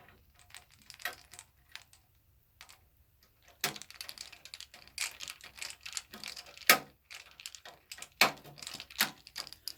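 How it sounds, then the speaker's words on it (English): A screwdriver slips and scrapes against a screw while RGB case fans are installed in a computer build, with a burst of sharp metallic clicks and ticks after a quiet stretch, close and fairly faint. "That's the sound of my screwdriver slipping."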